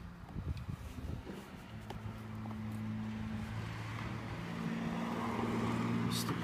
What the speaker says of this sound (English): Just a car to go by.